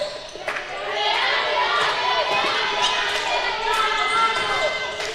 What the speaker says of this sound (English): The women's team cheering and clapping in the stands.